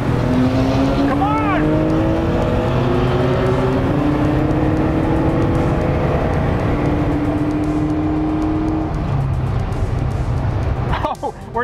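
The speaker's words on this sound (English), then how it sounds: "maybe we should all floor it in top gear, which for Freddy" Several cheap used Ferraris floored in top gear, a loud continuous engine drone with rising tones as the cars pull, heard close and steady with voices partly under it.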